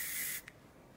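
A burst of Kenra Color Maintenance Thermal Spray hisses onto a section of hair for under half a second, close and fairly loud, then stops with a faint click.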